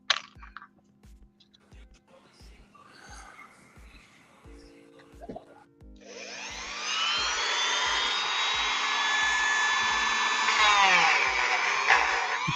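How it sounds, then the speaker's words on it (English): A small sanding bit on a rotary tool whirs steadily and loudly for several seconds while customizing an action figure, following quieter handling clicks and a faint voice. "Switch to my small sanding bit."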